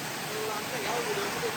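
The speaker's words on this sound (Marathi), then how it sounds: "मस्त पैकी धबधबा." A forest waterfall during heavy rain, a steady broad rushing hiss filling the air, with faint voices in the background.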